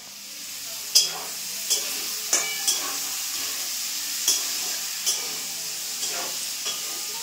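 Food frying in a home kitchen pan gives a constant soft hiss and sizzle, punctuated by a handful of light spatula clinks and scrapes at irregular intervals, fairly close and without speech.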